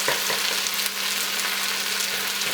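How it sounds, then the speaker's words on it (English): An egg frying over medium-high heat in a non-stick wok for pork fried rice gives a steady, close sizzle with a few faint scraping touches. No voice is heard. "And just let that egg cook"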